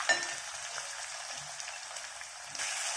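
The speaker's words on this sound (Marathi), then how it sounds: "आलू लसणाची पेस्ट आता यात भाजत आहे" Ginger-garlic paste fries with onion in a pan for a chicken fry, giving a soft, steady sizzle and crackle throughout, quiet and with no voices.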